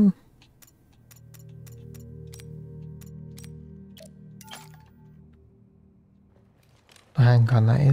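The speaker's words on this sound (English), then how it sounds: "Oh, let's reload the gun." Handgun reload in the game Daymare 1998: a series of sharp mechanical clicks and metallic snaps over a low ambient hum, followed by a loud burst at the end.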